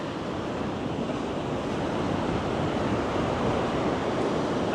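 Sea waves crash and wash steadily onto a rocky beach in Gangneung, South Korea, a loud, continuous roar of surf with wind noise buffeting the microphone throughout.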